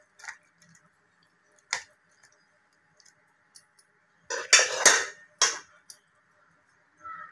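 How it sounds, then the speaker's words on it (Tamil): Boiled peas and potato are mashed with a masher for roadside masala pori, making sparse, irregular clicks and clatters against the vessel with a short burst of rapid scraping, quiet and close. "இந்த பட்டாணியும் உருளைக்கிழங்கு இந்த மேசரை வச்சு நல்லா மேஷ் பண்ணணும்."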